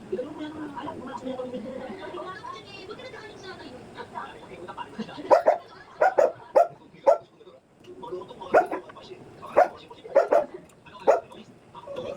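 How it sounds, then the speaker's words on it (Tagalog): A dog barks repeatedly in short sharp bursts, some in quick pairs, close by, after a stretch of quieter background talk. "Kasi sobrang ingay ng aso ko"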